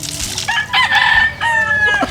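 Chickens being fed at a fishpond cluck and crow close by, with several loud, drawn-out calls in quick succession.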